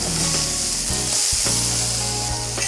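Burger patties sizzle loudly on a Blackstone griddle, a dense, constant frying hiss close up with a few brief scraping touches, no voices present.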